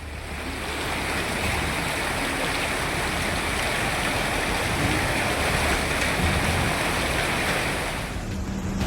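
Floodwater in Punjab after heavy monsoon rain, a dense, steady roar of rushing water with wind noise on the microphone, loud and continuous, no voices.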